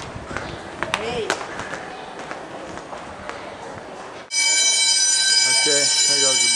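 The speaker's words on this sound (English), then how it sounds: "Okay, there goes the bell." A school bell rings at the end of a math class, coming in suddenly partway through as a loud, sustained electric tone that holds steady to the end, following busy hallway chatter and footsteps.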